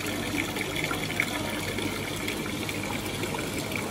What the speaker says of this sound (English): It's got a gentle ripple of water coming down the front.